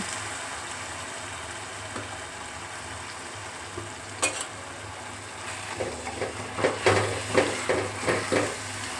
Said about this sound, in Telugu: ఇప్పుడు కొంచెం ధనియాల పౌడర్ని కూడా వేసేసుకొని బాగా మిక్స్ చేసుకుందాం